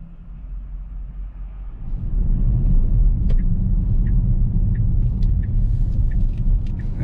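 Morning road traffic rumbles from inside a Tesla, a low, steady engine and tyre drone that swells after a quieter start, with a few faint high clicks and ticks over it.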